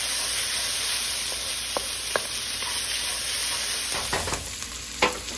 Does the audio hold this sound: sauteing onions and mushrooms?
yes